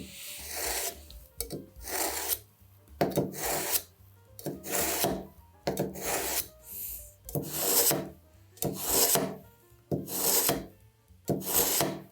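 A knife blade drawn along a honing steel in about nine long rasping strokes, each a bright scraping pull followed by a short pause, close and fairly quiet with no voices.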